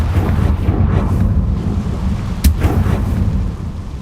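A Confringo spell explosion in the Hogwarts Legacy video game, heard as a loud sustained rumbling blast with a sharp crack near the middle, fading toward the end.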